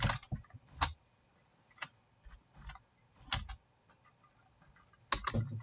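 Code being typed on a computer keyboard, arriving in short, separate bursts of close clicking with quiet pauses between them and a louder flurry at the end.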